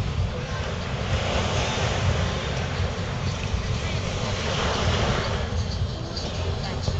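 Waves wash onto a beach at night on Ko Samet, a continuous full roar of surf mixed with wind rumble against the microphone, steady throughout with no pauses.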